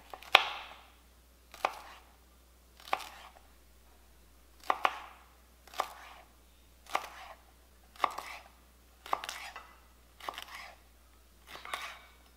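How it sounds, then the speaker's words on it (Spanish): A knife chops celery for chop suey on a board in nine spaced, crisp strokes about a second apart, close and clear against a quiet room, with no speech. "El apio lo vamos a cortar así de esta manera."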